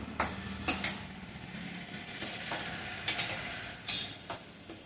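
Ingredients and spices being stirred in a pan on the stove, with a steady faint sizzle and scattered sharp scrapes and clinks of a spoon against the metal, close and unhurried.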